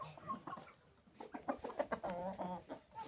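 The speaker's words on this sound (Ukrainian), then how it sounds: "Це півник тут як тут завжди." Soft, repeated clucking from a rooster close by, a run of short throaty calls rising into a longer warbling cluck near the end.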